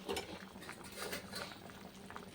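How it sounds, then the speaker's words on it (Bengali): A vegetable curry broth with potatoes bubbling at a boil in a pot, a soft continuous bubbling and patter heard faintly at a distance. "এই দেখো ঝোলটা ফুটে গেছে"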